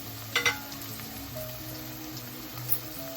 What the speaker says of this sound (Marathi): इथे बघा कांदा अजून आपण परतवून घेतोय